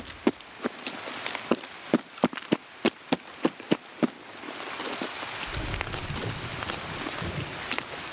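Rain falls steadily in the Escape From Tarkov game world, a soft wash under a run of sharp, evenly spaced footsteps for about four seconds, then a louder, rumbling patter as the footsteps stop.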